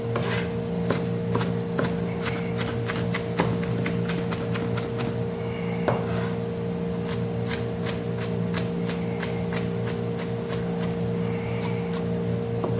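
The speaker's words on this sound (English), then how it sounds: "So I'll cut this. Rough chop, as they say." A knife rough-chops an onion on a board with a steady run of sharp taps, about two per second, continuing for over ten seconds. A constant kitchen hum sits beneath, and no one speaks.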